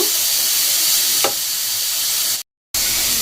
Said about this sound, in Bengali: আবার রেখেছি গাজর, এগুলোকেও দিয়ে দিলাম। একটু ভেজে নেব।